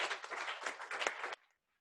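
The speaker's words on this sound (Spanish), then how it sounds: "Denle un aplauso al Señor" A short burst of clapping from a church congregation, brisk and fairly close, cutting off abruptly after little more than a second into near silence.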